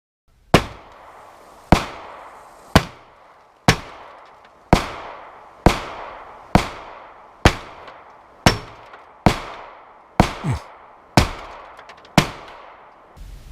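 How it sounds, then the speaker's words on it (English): Thirteen pistol shots fired at a car, each a sharp, loud crack with a short decaying echo, spaced about a second apart in a steady, evenly paced series with no talking. "Now, I fired 13 shots, and as you can see, I tried to spread them out"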